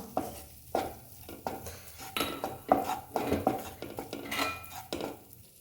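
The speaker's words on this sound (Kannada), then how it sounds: "ಇದೊಂದು 2 ನಿಮಿಷ ಈ ಥರ ಮಿಕ್ಸ್ ಮಾಡ್ಕೋಬೇಕು" A spoon mixes flour into melted butter in a pan for white sauce, producing repeated scraping and clinking strokes in an uneven rhythm over a faint sizzle, close and fairly loud; no speech.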